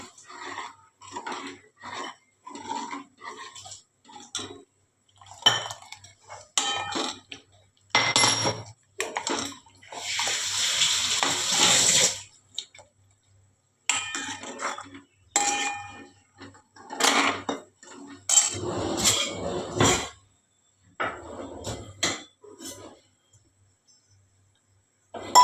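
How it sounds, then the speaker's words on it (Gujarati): Gujarati sweet-and-sour kadhi with chilli paste being stirred in a pot, heard as close bursts of metal spoon clinks and scraping against the vessel, interspersed with watery sloshing and short silent pauses. "હવે આ બધું બરાબર મિક્સ કરીશું,"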